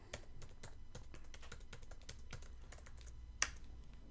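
Keystrokes on a computer keyboard as a password is entered, a steady run of close, crisp clicks with uneven rhythm, one sharper louder key strike near the end.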